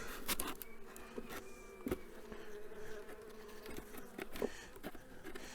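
Honey bees, Carniolan colony, buzzing around a nucleus beehive as it is being closed, a continuous low drone from several nearby insects, with occasional sharp knocks and clicks from handling the hive.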